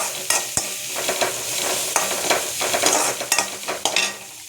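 Onions and two green chillies sautéing in oil with mustard seeds and curry leaves for a bitter gourd stir-fry. The sizzle is close and steady, and a spatula scrapes and clinks against the pan in repeated short strokes.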